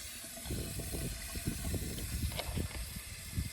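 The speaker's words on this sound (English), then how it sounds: "Then I stick my water hose in there." Water from a garden hose runs into a plastic wick tub for plants, a close, continuous hissing splash with bubbly irregular gurgles as the tub fills.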